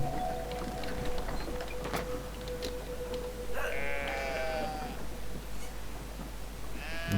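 Sheep bleat in the video game Brothers: A Tale of Two Sons, a few wavering calls rising over a steady game soundscape with a low drone and a sustained tonal note, moderately near and without talk.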